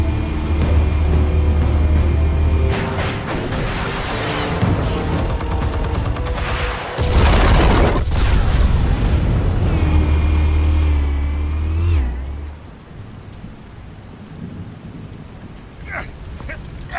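Explosives detonate in Batman: The Telltale Series, a loud, sustained blast with heavy low rumble and crackling debris that roars for about twelve seconds before cutting away to a quieter tail with faint scattered sounds.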